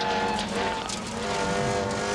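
A rally car driven by Louise Aiken-Walker in the 1999 TV Masters Rallysprint Challenge, heard from onboard as a continuous loud engine roar with road noise and no one talking.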